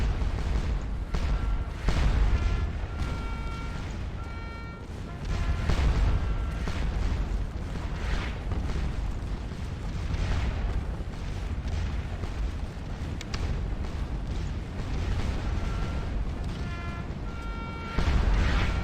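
Artillery guns fire repeatedly across a Waterloo battlefield in the video game Scourge of War Waterloo, heavy booms rolling one after another over a constant rumbling din, with no talking.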